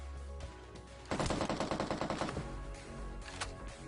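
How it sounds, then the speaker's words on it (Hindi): Gunfire behind the player in the mobile battle royale game PUBG Mobile, a burst of rapid automatic shots lasting about a second, then a quieter lone shot against steady game background noise. "मेरे को पीछे फायरिंग की साउंड आती है"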